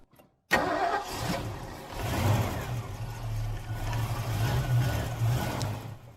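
A 1970 Mustang Mach 1's carbureted 351 Windsor V8 cranks and catches, then runs rough at close range while the accelerator is pumped repeatedly, giving a steady low rumble with uneven surges and no talking.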